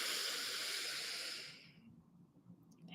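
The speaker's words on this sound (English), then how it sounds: "breathing in" A slow, deep in-breath during a guided relaxation breathing exercise, an airy hiss drawn steadily for about a second and a half before fading into near silence.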